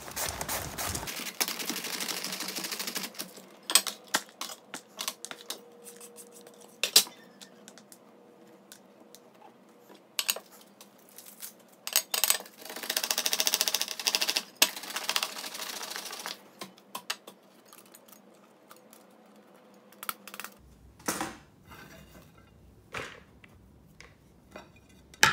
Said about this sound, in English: So I'm just gonna keep slicing this kobi and make little thin strips of kobi like this